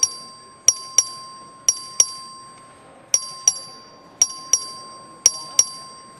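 A voting bell rung by the clerk on the floor of the Texas House chamber during a record vote: sharp, bright metallic dings, about eleven strikes in uneven pairs and singles with a steady ringing tone beneath, clear and close with no talk.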